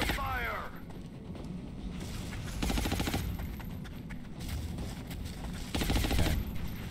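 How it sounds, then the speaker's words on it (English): Gunfire in XCOM: Long War, with bursts of rapid automatic shots rattling in repeated clusters over a steady battlefield din, mixed with voices talking. "I'm under fire!"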